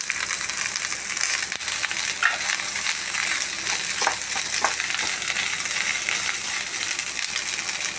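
Shallots and dried red chillies frying in a pan, a steady close sizzle with occasional stirring scrapes throughout, no voices heard.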